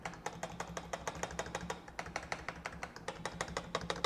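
Steady run of quick key presses on a membrane gaming keyboard built to feel mechanical, a dense even clatter of light taps close up with no talking.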